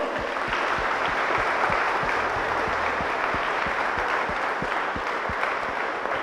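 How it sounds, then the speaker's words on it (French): A congregation at Saturday Mass applauds young people, a steady, sustained round of clapping from many hands, with distinct nearby claps beating through the even crowd noise. "on les applaudit bien fort"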